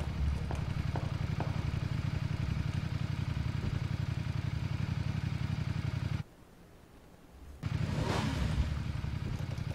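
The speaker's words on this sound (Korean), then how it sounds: "오토바이 누가 탔어? 아니 죽였어. 죽인 건데 시동이 안 꺼졌어." A motorcycle engine idles unattended in PUBG, a steady mid-pitched drone that runs loud and continuous, briefly cuts out for about a second, then returns just as strong.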